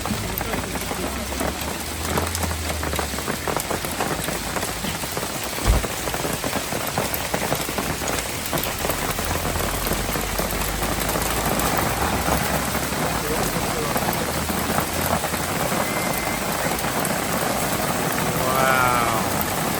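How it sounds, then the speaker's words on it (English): Hail falls steadily on the Camino de Santiago, a dense continuous patter of ice on surfaces that fills the whole span at close range, with faint voices and a low rumble underneath. "So there's hailing. It's hailing."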